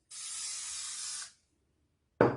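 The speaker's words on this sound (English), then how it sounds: "I'm going to go ahead and spray this pan lightly with some Pam spray." Pam cooking spray misted lightly onto a baking pan: one steady, close hiss of a little over a second, then quiet, then a brief sharp burst.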